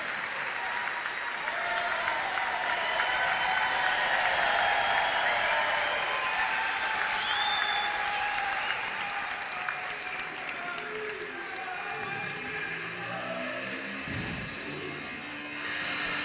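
Crowd at a college wrestling dual meet claps and cheers in a sustained, dense roar that stays loud for many seconds before easing slightly.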